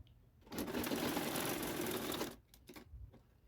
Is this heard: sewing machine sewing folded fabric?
yes